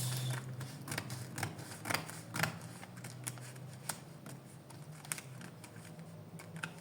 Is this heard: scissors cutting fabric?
yes